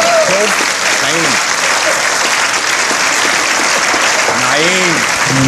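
Loud, sustained applause from a live comedy audience in Düsseldorf, steady clapping filling the whole stretch with a few brief voice fragments rising over it.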